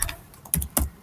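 Keys clatter on a computer keyboard while code is typed, a few scattered quiet taps then two sharper, louder strokes close together, with no voice.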